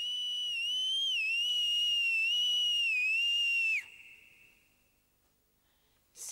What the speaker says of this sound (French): je vais siffler tellement fort qu'ils entendront